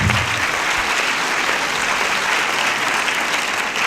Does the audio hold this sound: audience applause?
yes